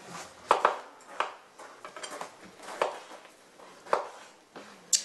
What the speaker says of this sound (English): I'm cutting up the pineapple